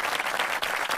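Audience clapping at a morning UX talk event, a steady dense wash of many hands applauding throughout, loud and continuous with slight swells and no talking over it.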